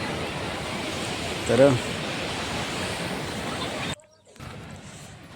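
A flooded river rushes with a broad, steady roar of water, close and loud, and a voice briefly speaks over it before a sudden drop near the end.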